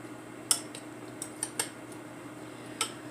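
A spoon stirs raspberry syrup into a glass of iced tea, making a handful of light, sharp clinks at irregular intervals over a low background hum, with no talking.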